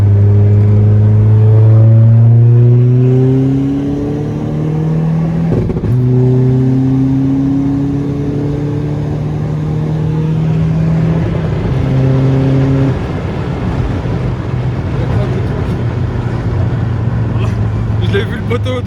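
Tuned TDI diesel car accelerating hard through the gears, loud engine tone rising in pitch, dropping at each shift and climbing again, heard from inside with people talking over it.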